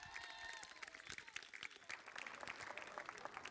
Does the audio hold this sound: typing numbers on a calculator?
no